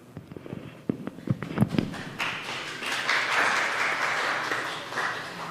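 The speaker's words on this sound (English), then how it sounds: "Thank you for holding your applause." At a county council candidates forum, a few scattered claps and taps give way to a swelling round of audience applause that grows fuller and louder, then continues steadily to the end.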